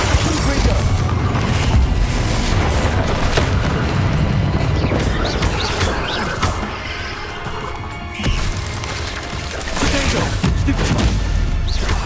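Loud blasts and crashing booms of the Confringo blasting spell in the video game Hogwarts Legacy, repeating in a dense barrage over steady game noise, with a brief quieter stretch midway and a voice talking throughout.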